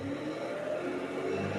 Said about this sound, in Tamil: ஆர்பிஎம் ரேஸ் பண்ணுறேன் பாருங்க